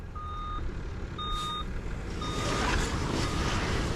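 A reversing alarm beeps at a steady interval as a large truck backs up at a landfill, its engine rumbling and growing louder.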